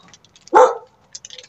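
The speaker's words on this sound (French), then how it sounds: "Et il va faire que aboyer." A single sharp dog bark, close and loud, with faint ticking clicks around it in an otherwise quiet room.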